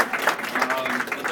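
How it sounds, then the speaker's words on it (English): A comedy audience at a Kaboom amateur show claps steadily in a brief, dense burst of applause that fills the room, with voices mixed in beneath the clapping. "Big round of applause for Kaboom"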